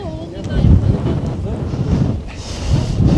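Strong wind in the Tatra Mountains of Poland buffets the microphone in loud, rumbling gusts, with water and surf sounds underneath.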